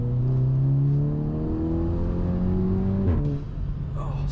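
A Stage 2 Volkswagen GTI pulls hard on an open road, its engine note climbing in a smooth, loud drone from inside the car before a brief shift and the revs settling lower.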